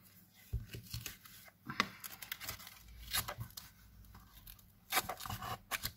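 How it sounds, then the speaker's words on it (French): Carpet tape torn off the roll and pressed down around a handmade planner, close crackling rips and crinkles in short bursts with brief pauses between. "je vais mettre du scotch moquette"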